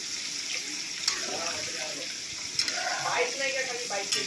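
Heated water poured into a pan of fish and kuyash potato curry, a steady watery splashing and bubbling hiss throughout, with faint background voices underneath.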